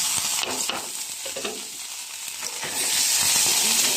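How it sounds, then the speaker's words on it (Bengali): Chopped onion and chili fry in hot oil in a pan, a loud continuous sizzle with scraping stirs, rising in intensity toward the end with no voices. "পেঁয়াজ কুচিটা লাল লাল করে ভেজে নিতে হবে"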